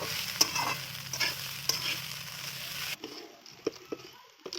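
Flattened rice with dry fruits and sugar is stirred in a frying pan over a wood-fired clay stove, a quiet sizzle broken by sharp spoon taps and scrapes, with the sizzle thinning toward the end.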